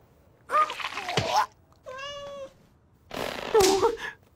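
A cartoon cat gives a few separate drawn-out meows, close and clear, with short silences between them and a soft harmonic wail in the middle.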